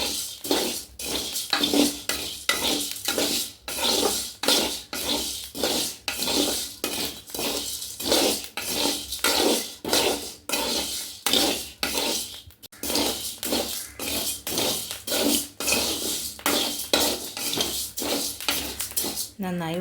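Rice dry-roasts in a deep pan while being stirred, giving a rhythmic run of scraping, rasping strokes about twice a second, close and fairly loud, repeating steadily throughout.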